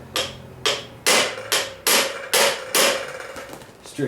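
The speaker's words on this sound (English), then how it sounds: "I'm gonna use the impact screwdriver and try to break these loose" An impact screwdriver is struck with a hammer to break loose stuck Phillips screws on a 1975 Suzuki TC 185 carburetor, giving about eight sharp metallic blows at an irregular rhythm, close and loud with no talking.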